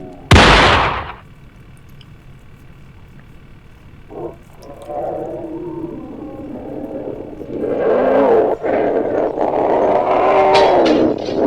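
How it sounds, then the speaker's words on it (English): A single loud, close shotgun blast cracks out at the start, then fades into a low hum. Shouting voices rise later in the clip. "That's a shotgun, not a pistol, but okay."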